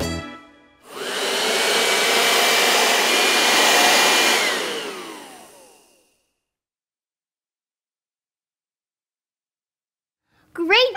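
A voice imitates a vacuum cleaner as part of a noise-guessing game, a steady breathy whooshing drone held for about five seconds, then silence and a brief vocal sound at the end.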